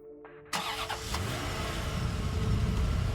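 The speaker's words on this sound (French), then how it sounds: "démarre donc sa voiture au petit matin d'un jour sans soleil" A car engine starting in the early morning: a click and brief cranking, then the engine catches and settles into a steady, rising idle rumble that continues loud and close.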